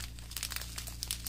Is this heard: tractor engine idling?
no